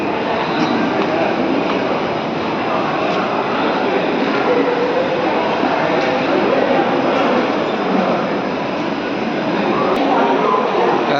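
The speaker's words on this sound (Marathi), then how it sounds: "आणि हे आहे चर्चगेट रेल्वे स्टेशन" A train rumbles loudly and steadily at Churchgate railway station, Mumbai, a continuous rolling roar of wheels and carriages filling the space without pause.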